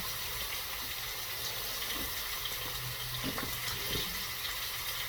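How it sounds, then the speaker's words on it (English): Water pours into kung pao beef in a hot pan, giving a soft, steady hiss and wash with a few small splashes. It is fairly quiet and heard without talk. "Add a little, just a tad of water."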